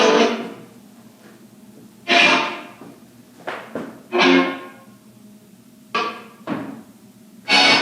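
Knocks on a Ouija board hanging on a wall in a Michigan museum: a series of loud, close, hollow thuds in irregular clusters, separated by near-silence, with no talking.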